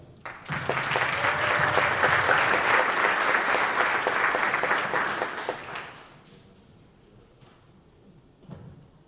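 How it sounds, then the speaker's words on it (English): Warm audience applause at a high school National Honor Society induction ceremony, steady and full for about five seconds before fading into scattered claps and quiet room noise. "I think they deserve a round of applause for being able to brag about themselves"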